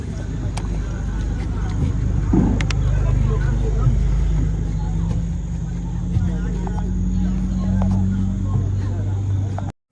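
Inside a night bus travelling from Anambra to Lagos as passengers board: a steady low engine rumble fills the cabin, with faint shuffling, bumps and murmuring voices of people settling in.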